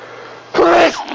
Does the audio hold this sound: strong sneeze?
yes